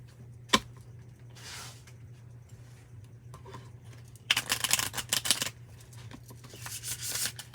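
Fresh playing cards handled at close range: a sharp tap, a few soft scuffs, then a dense run of fast riffling clicks as the new deck is shuffled, with no talking.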